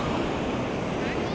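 Ocean surf rolling onto the sand dunes beach near Playa del Inglés on Gran Canaria, a steady broad wash of breaking waves mixed with wind rumble on the microphone, continuous and fairly loud throughout.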